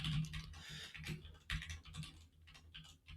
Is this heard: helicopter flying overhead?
no